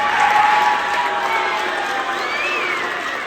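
Audience at a Kentucky youth assembly candidate speech event cheering and clapping after a speech, a dense sustained crowd roar with whoops over steady applause, loud and close throughout.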